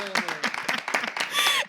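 Quick scattered hand claps from a small group, mixed with voices talking over them.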